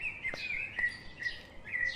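A small bird near a tree chirps in quick, high, close tweets, repeating about five times in two seconds against a quiet background, with no voices.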